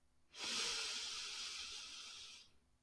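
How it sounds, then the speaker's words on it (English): A single slow, steady inhale through the nose during a breathing exercise, a close airy hiss lasting about two seconds and then fading, with no talking. "You inhale for 2 seconds"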